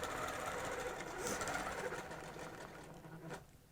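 Sewing machine stitching a microquilting pattern along a ruler, a fast, even mechanical needle rattle heard close and fairly quiet, running steadily before tapering off near the end.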